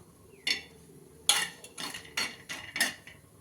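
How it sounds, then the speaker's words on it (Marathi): Grated coconut and cashews dry-roasting in a pan over a wood-fired stove, a spoon scraping and clinking against the metal in about half a dozen separate strokes, close and quiet, with no voices. "ह्याला थोडंसं कसा लालसर रंग येऊपर्यंत आपण भाजून घेणार आहोत."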